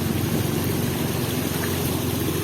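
Floodwater rushes steadily through a pumping station in flooded Malolos, Bulacan, a continuous loud churning roar of moving water with a low mechanical rumble underneath and no voices.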